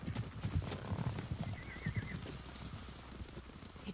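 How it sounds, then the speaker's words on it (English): Several horses trot closer with steady clip-clop hoofbeats, a brief whinny rising midway, all fairly soft and distant. "Horses, they're coming for us."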